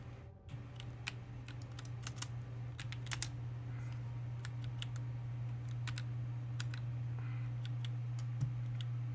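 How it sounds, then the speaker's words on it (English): A computer keyboard being typed on in scattered quick clicks over a steady low electrical hum, moderately close and without talk. "you can see that I've been typing random things"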